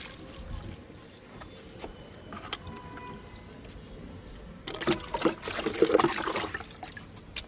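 Liquid fertilizer is poured onto okra plants growing in a plastic tub, giving a splashing, gurgling pour near the end after quieter handling sounds, with some faint talk in the background.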